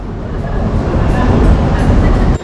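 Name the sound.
train in a metro station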